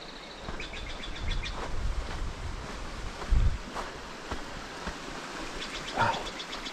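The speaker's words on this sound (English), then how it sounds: "You hear the creek flowing down here." A creek in the South Sierra Wilderness flows with a steady broadband rush, moderately close, with a few bird chirps and faint thumps over the running water.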